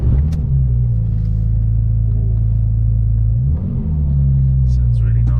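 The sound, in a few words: Porsche 911 engine starting and idling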